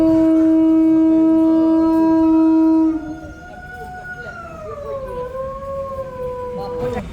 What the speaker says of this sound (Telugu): ఒక అఘోర వచ్చి శంఖం పూరిస్తున్నారు